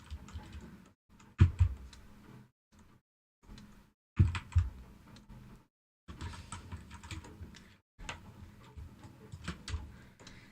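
A computer keyboard is typed on in short bursts of close, clicky keystrokes with silent pauses between, used while drawing.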